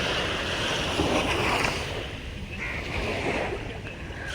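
Loud sea waves roll and wash continuously in a broad steady roar, with wind buffeting the microphone near the shore and no talking.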